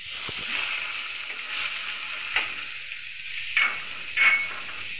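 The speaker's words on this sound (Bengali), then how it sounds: "মাছটা একটু ভাজবো, বেশিক্ষণ ভাজবো না।" Fish frying in hot oil in a pan with chopped onion, giving a steady soft sizzle with a few louder crackling bursts near the end, fairly close and with no talk.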